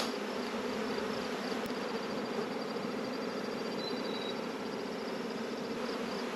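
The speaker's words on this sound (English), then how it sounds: "there's so many bees on here and they're so calm" Honey bees buzz steadily on a crowded hive frame during an inspection of a colony suspected of superseding, a dense, continuous close hum with no voices.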